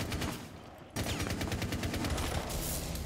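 Rapid gunfire from a video game rattles in quick repeated bursts, loud and close, with a brief dip before the shots resume at full intensity.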